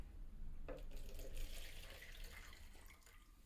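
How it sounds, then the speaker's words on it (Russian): Water drained from a coffee machine's drip tray, poured in a steady splashing trickle into a sink, close and moderately quiet, fading toward the end. "Здесь у нас вот поналивал воды так хорошо. Мы ее сейчас сливаем."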